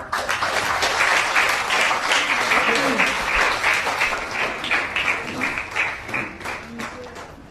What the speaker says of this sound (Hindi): इनके तालियां बजा दो